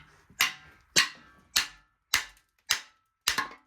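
Cam bearings are hammered out of an engine block with a driver tool, six evenly spaced loud metallic knocks, each ringing briefly before the next, close and with no voices.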